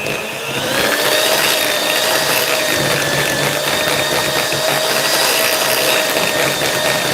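Electric hand mixer whirring steadily as it blends pumpkin spice truffle mixture, a continuous motor drone with a faint high whine running the whole time, close and loud with no talk.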